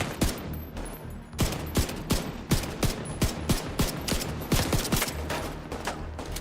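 Rapid gunfire in the video game The Division 2, a long run of sharp shots at a fast, steady rhythm with no talking over it.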